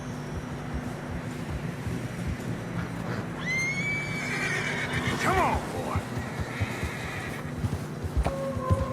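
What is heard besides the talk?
horses whinnying and hooves in Red Dead Redemption 2 video game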